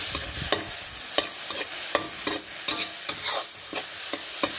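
Onion stir-fried in a pan over low heat, a continuous sizzle broken by repeated rhythmic scrapes and clacks of a spatula against the pan, close and busy.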